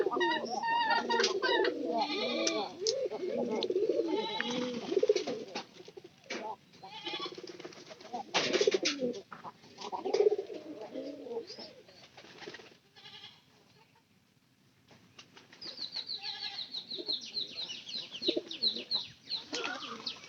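Pigeons kept in a home coop alongside chickens coo and call in repeated, overlapping bursts at close range, with occasional pauses and a quieter stretch before the calls resume.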